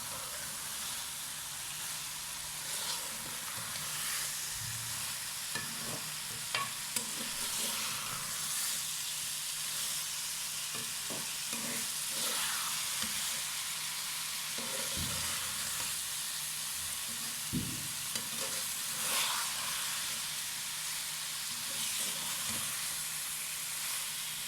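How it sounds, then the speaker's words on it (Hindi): Arbi and potato bhujia fries in a pan with a steady sizzle, broken by occasional scrapes and knocks as it is stirred up close. No one speaks. "अच्छे तरीके से आपने इन्हें भून लेना है।"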